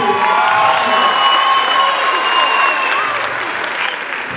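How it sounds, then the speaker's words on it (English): Sustained applause with some cheering from a school audience at a 5th grade moving-on ceremony, a dense steady patter of clapping filling the room, loud and close, with faint crowd voices mixed in. "Give them another round of applause, please."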